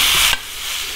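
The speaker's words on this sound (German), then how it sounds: "Und das erste, was wir machen, ist, dass wir unser Hackfleisch hier anbraten." Minced meat frying in a pan on a grill, a loud close sizzle with a brief stirring scrape partway through.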